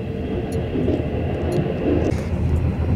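Inside a passenger train running from Xining to Xi'an in China, a loud continuous low rumble of wheels and carriage, steady throughout with faint brief clicks above, no voices.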